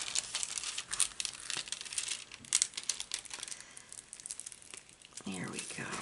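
Cellophane on a diamond painting canvas crinkles and crackles close up, a busy stream of sharp rustles and snaps with brief quieter gaps as it is handled.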